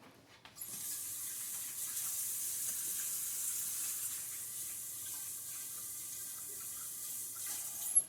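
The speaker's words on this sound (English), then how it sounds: "I'm gonna wash my hands" Running water from a sink tap as hands are washed, a steady close hiss that starts abruptly and carries on evenly, ending with a brief splash or knock and no talking.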